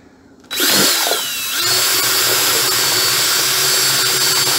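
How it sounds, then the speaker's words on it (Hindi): A paint mixer head on a power drill stirs haleem for about fifty people in a large pot, starting abruptly with a whining rev and then settling into a steady, loud motor drone. "ये हमने ये ये लगाया ये पेंट मिक्सर का हेड है"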